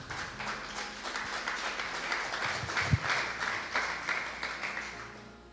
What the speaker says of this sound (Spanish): Ahora sí aplaudan